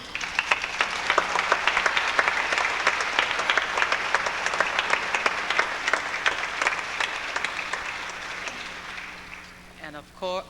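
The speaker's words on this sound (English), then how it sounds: "And how about a round of applause for our MCs, Gencho." Applause at a university lu'au celebration, a loud and sustained round of clapping from a crowd that fades out toward the end, just before a voice returns briefly.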